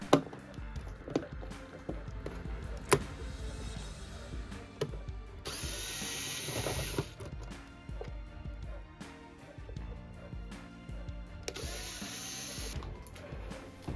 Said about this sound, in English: Hidden within the foam holder groove, there are three screws that will need to be removed.